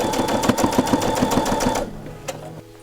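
A sewing machine backtacks a curtain seam with a quick rhythmic chatter for under two seconds, then stops, leaving a few faint clicks.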